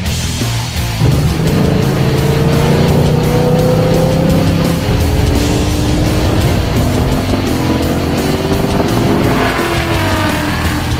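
A Kenny Brown fourth-generation Mustang with AGS 4.0 advanced geometry suspension drives hard, its engine loud and near as it revs up and shifts repeatedly, with rising and falling tones and some tire noise along the way.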